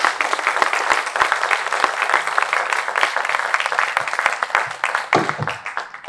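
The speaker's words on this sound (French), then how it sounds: "Est-ce que nous pouvons applaudir cette brillante présentation" An audience at a technology forum in a hotel applauds after a presentation, with dense, sustained clapping from many people that stays loud throughout and trails off slightly at the end.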